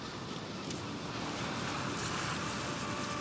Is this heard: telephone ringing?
no